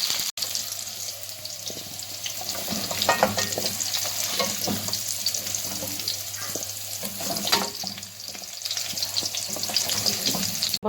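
Potatoes and carrots fry in a pan for a Turkish karahi, giving a steady close sizzle with scattered stirring scrapes and clinks, while a low hum runs underneath and no one speaks.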